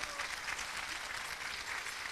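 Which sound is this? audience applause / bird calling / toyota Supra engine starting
audience applause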